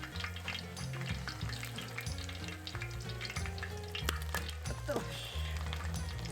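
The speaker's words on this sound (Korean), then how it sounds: "기름이 엄청 튀네요" Battered mini squid deep-frying in hot oil, with steady loud bubbling and spattering throughout, sharp crackling pops standing out, and a voice speaking over the frying at times.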